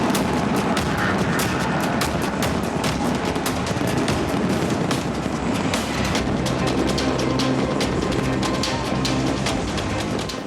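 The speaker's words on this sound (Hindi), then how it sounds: "ऑस्ट्रेलिया में सिडनी हार्बर पर आतिशबाजी के मुजाहिरे ने तो हर तरफ रंग भर दिए।" Dense, continuous crackling and booming of a large New Year's Eve fireworks display over Sydney Harbour, Australia, loud and unbroken throughout with rapid overlapping bursts and no talk.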